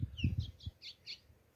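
A small seed finch gives a short burst of high chirping notes, four or five quick tweets, fairly close and alone.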